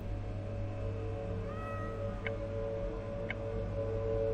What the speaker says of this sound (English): Sorry, cat. I don't know what to give you.